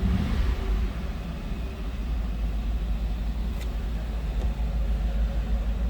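A 1989 Mercedes-Benz 560SL convertible's engine idles steadily after starting, a close, even rumble with no talking over it.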